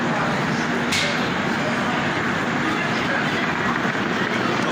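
A train rolls past in a steady, loud rumble with a broad roar that holds evenly from start to finish, and one brief high squeal of the wheels sounds near the start.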